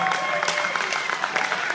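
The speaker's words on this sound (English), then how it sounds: "Come on, give him a big hand clap." A church audience applauds at a Strength Team show, dense hand clapping heard briefly and close with some crowd noise mixed in.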